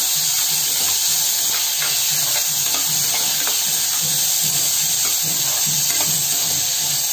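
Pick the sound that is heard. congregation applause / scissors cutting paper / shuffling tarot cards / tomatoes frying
tomatoes frying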